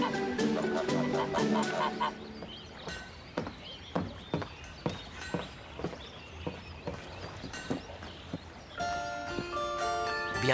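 Geese honk loudly and repeatedly in irregular nasal bursts, close by and with no voices over them.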